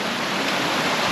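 Water of a mountain stream in the Kumrat valley rushes steadily and loudly, a dense continuous roar with no pauses, close by and alone without voices.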